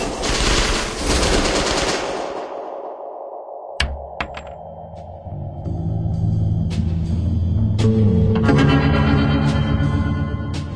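A loud gunfire sound effect of several rapid shots, like someone being gunned down at a table, bursts out at the start of a true-crime narration, followed by sharp metallic pings and dramatic sustained tones.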